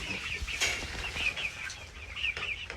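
Backyard chickens clucking and squawking near a feeder, several birds calling in quick, uneven bursts close by, with rustling and wing flaps under them.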